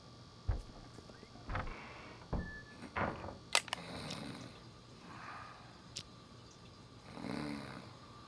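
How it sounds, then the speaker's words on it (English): A man snoring inside the video game Unheard, heard as several soft, low snorts spread across the clip alongside faint clicks and a thin steady hum, fairly quiet and without talk. "Oh, he's snoring."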